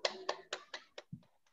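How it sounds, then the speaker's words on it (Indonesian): A handful of sharp, evenly spaced hand claps in a classroom for a student, quiet and sparse, with the last few hits growing fainter. "Tepuk tangan untuk teman kita Reno."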